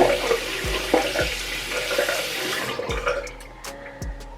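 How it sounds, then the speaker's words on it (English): Tap water runs steadily into a sink while someone rinses their face, with a few splashes and drips as the flow thins toward the end; no talking. "I'm gonna go ahead and rinse my face"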